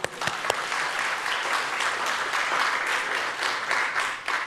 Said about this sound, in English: but they deserve a clap.